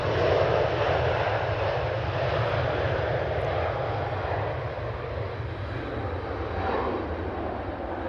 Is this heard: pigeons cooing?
no